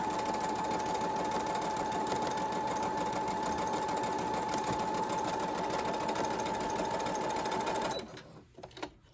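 A Brother CS7205 sewing machine sews a straight stitch with a loud, steady motor whir and rapid needle clatter for about eight seconds, then stops, leaving quiet handling noise.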